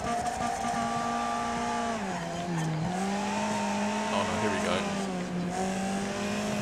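Race cars in the demolition derby game Wreckfest drone with steady engine tones that dip and climb as they corner, with faint tire and impact noises mixed in; no crash stands out clearly.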